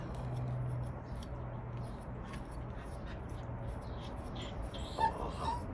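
A dog whimpers faintly with thin, high cries over steady background noise, most noticeable near the end.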